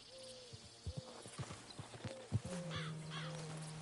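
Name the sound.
horse in Red Dead Redemption 2 video game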